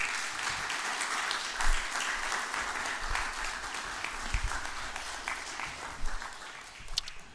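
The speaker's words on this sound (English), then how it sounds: "kids, I want you to round of applause to your parents" An audience applauds at a Police Athletic League graduation ceremony. Even, sustained clapping continues throughout, with a few louder thumps rising from the crowd.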